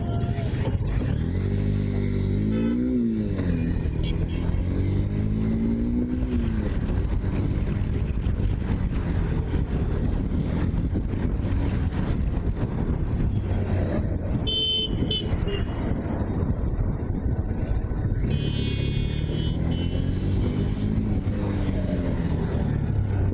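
A Honda NX 200 motorcycle rides along a road, with a constant rumble of engine and wind noise throughout and someone talking over it.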